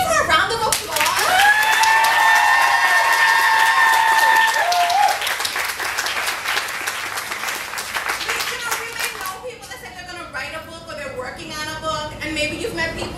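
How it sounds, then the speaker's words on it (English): An audience at a book release claps loudly in a sustained round of applause, with whoops and voices rising over the clapping early on before it continues under chatter. "can we give her a round of applause?"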